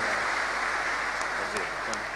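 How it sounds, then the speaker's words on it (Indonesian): An audience at a religious gathering claps steadily for the governor and vice governor, a dense, even patter of hands throughout with a few sharper claps standing out. "berikan tepuk tangan untuk Pak Gub dan Pak Wagub"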